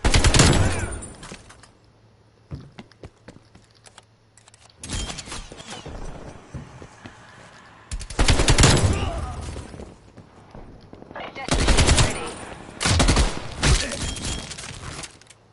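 Automatic gunfire from a Call of Duty video game, heard as several loud rapid bursts separated by quieter gaps, with someone talking between and over the shots.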